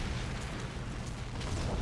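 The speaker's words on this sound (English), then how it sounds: "The missile hits." A missile strike in Call of Duty: Ghosts, a heavy rumbling blast with a long roaring, crackling tail of debris and fire, loud and close throughout.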